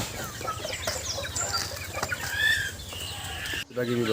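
Local chickens cluck steadily on a home poultry farm, overlapping calls from several birds nearby over a low hum, with a short break and brief talk near the end.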